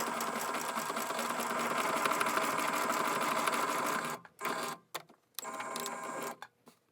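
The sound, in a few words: sewing machine stitching fabric scrub bag casing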